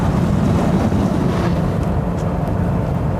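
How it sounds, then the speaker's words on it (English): Steady roaring wind buffeting through the open windows of a BMW 735i E32 on the road, loud and unbroken, masking everything else. "Also quite windy, but I left the windows down for maximum noise access."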